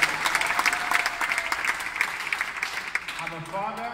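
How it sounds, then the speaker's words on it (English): Audience applause at a Kenyan presidential bid launch rally, a brief burst of dense clapping that fades as a voice resumes at the end. "Give her a round of applause."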